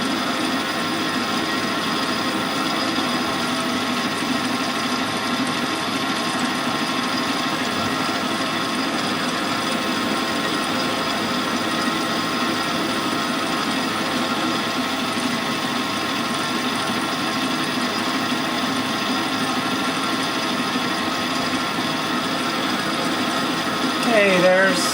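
A lathe turns a mill-head collet bushing down to diameter, giving a continuous, even machining drone with a faint tonal whine that holds steady for the whole stretch.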